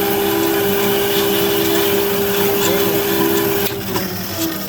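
An Amada H650HD band saw runs with a steady loud hum and whine after cutting steel, then the motor note drops and changes near the end as the head begins lifting.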